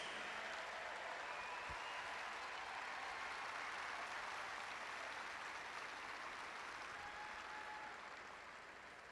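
Sustained applause from a large crowd at the 2021 Pelotonia opening ceremony honoring medical center staff, a steady even roar of clapping that fades slightly toward the end.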